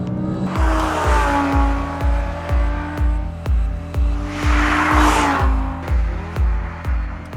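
An Audi R8 V10 Plus with its 5.2-litre V10, which revs to 8,500 rpm, climbs loudly through the revs twice, its engine note swelling and settling over a rhythmic pulsing drone.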